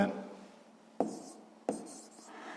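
Chalk or marker writing on a board during a sixth-grade math lesson: three short scratchy strokes, each starting sharply then trailing off, close and fairly quiet.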